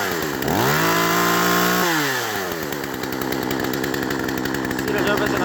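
Poulan chainsaw with a newly installed chain revving hard, its engine pitch climbing, holding high and then dropping into a choppy idle-to-throttle pattern, loud and close with a voice briefly over it.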